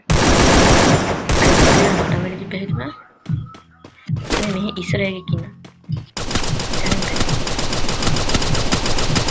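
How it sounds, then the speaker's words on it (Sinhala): Gunfire rings out in a shooting video game, with sharp bursts and rapid volleys broken by short pauses. Players talk excitedly over the shots. "ඒක මට වෙඩි තිබ්බේ"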